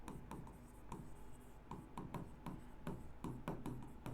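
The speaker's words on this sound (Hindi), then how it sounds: "देखिए मैं यहाँ पे लिखता हूँ" Chalk or marker scratches across a board in short repeated strokes as a formula is written, soft and close, steady rhythmic scraping with no voice.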